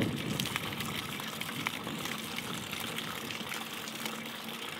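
Water drains through an exterior bell siphon with a continuous close rushing, gurgling flow at a steady level throughout, with no voices.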